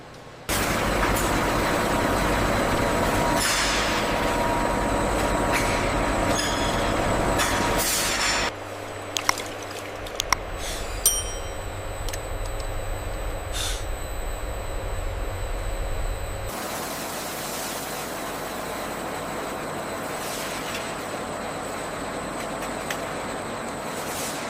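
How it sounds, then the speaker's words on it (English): An overhead monorail system lifts plated copper cathodes out of refining cells, giving a loud, steady mechanical rumble with rail-like grinding that drops in level partway through and runs on without talk. "lifting them from the cells using an overhead monorail system"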